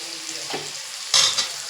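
Onion, tomato and garlic paste sizzles in a pan as it is stirred, a soft steady frying hiss broken by a brief louder scrape of the spoon, with no voices.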